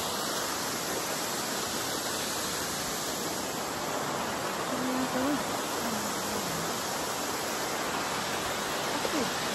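A swollen river roars over Ebro Falls in New South Wales, Australia, a dense, continuous rushing wash heard close, with faint voices briefly talking beneath it.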